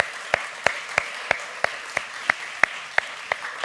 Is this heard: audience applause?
yes